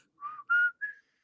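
A person gives three short whistled notes, close and clear, the middle one longest and highest, ending in silence.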